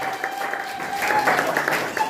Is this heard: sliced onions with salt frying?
no